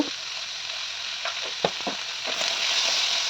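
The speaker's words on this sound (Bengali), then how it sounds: "আলুটা দেওয়ার পর আমরা আলুটাকেও ভালোভাবে ভেজে নেব।" Cut potatoes frying in a pan for aloo posto, a steady hiss of oil with a few soft stirring scrapes and a sharper clink partway, with no talking.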